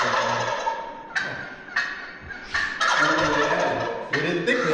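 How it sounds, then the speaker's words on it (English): A wild turkey gobbles repeatedly, rapid rattling calls in several bursts, fairly close and loud. "So that's a gobble."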